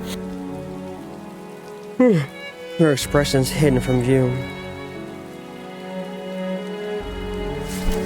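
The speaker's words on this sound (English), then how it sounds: "Simply kneeling quietly in a certain rain, under curtain of rain." Steady rain falls in the video game Punishing: Gray Raven, a continuous soft hiss running beneath a voice that speaks and some tonal music.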